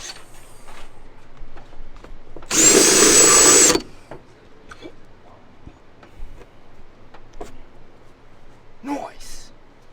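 A handheld power tool buzzes in one short, loud burst of about a second while deburring metal for a DIY intercooler sprayer on a 2021 Subaru STI, with scattered ticks and clanks around it.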